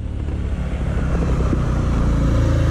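A motorcycle engine roars close by as it passes, a loud, steady, rumbling drone lasting the whole short stretch, with no talk.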